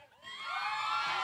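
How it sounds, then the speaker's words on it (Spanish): A live audience at a beauty contest cheers, whoops and shouts for a woman in a skirt, children's high voices prominent in a loud, sustained crowd roar that swells after a brief dip. "Aplauso para la chica de falda."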